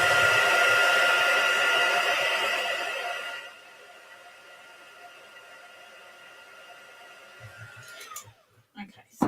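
A hair dryer blows on a watercolour painting of Easter lilies, loud and steady for a few seconds, then drops to a lower, quieter hum before switching off with a few faint handling knocks.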